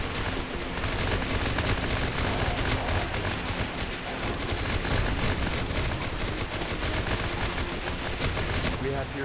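Dense, continuous gunfire in the zombie-apocalypse game Bad 2 Bad: Apocalypse, rapid automatic bursts layered into a constant loud barrage with no pauses.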